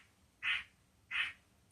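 A bird gives two separate harsh quacking squawks about half a second apart, each brief and fairly loud over a quiet background, with no talking.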